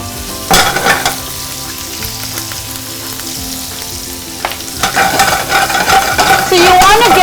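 Steady sizzling of octopus and onion frying in a hot pan, with occasional stirring scrapes and a brief voice-like tone near the end.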